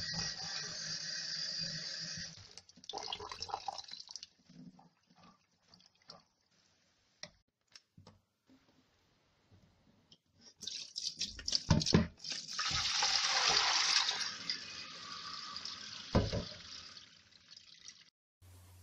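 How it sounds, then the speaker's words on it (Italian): Wild garlic bulbs being rinsed in plenty of water in a sink, with running-tap splashing in bursts, pauses filled with small drips and handling clatter, then a longer steady gush near the end. "Lavo e risciacquo più volte in abbondante acqua."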